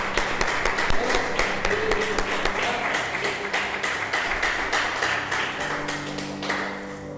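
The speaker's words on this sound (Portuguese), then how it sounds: "Vamos aplaudir o Senhor." A church congregation claps in a steady, rhythmic unison beat, loud and close, with faint voices and music tones beneath the clapping.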